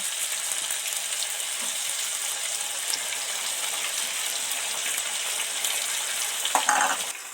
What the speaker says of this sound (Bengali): এবার এই তেলের মধ্যে এই মশলাটা ঢেলে দেব